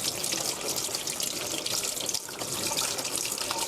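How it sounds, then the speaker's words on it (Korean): Tap water runs steadily into a sink while cabbage is rinsed under it, a continuous close splashing hiss with no talk. "흐르는 물에 깨끗이 씻은 다음"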